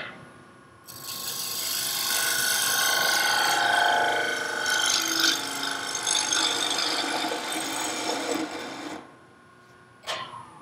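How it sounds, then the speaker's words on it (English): A wooden box is hollowed on a wood lathe, a close, sustained rough scraping and chattering of the cutting tool against spinning wood that runs several seconds, stops, then returns briefly. "Then we'll do a little bit of hollowing."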